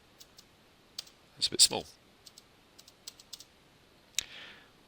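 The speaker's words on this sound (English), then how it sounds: "And I press the spacebar." A few light key clicks from a computer keyboard, including a spacebar press, sound up close in a quiet room, scattered among brief taps, with a short spoken remark partway through.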